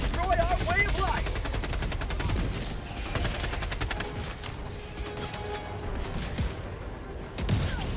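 Bursts of rapid automatic gunfire from a sentry turret in the video game Helldivers 2 rattle through a busy battle mix, with chattering mechanical fire recurring over several seconds.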